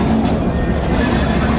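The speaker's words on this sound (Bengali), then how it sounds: "আর আমি যে ট্রেনটির উপরে দাঁড়িয়ে আছি সেটি হচ্ছে গিয়ে চিলাহাটি অভিমুখী 765 নীলসাগর এক্সপ্রেস।" The Nilsagar Express passenger train runs along the rails, a loud, close, continuous rumble of wheels and carriages with a faint metallic squeal.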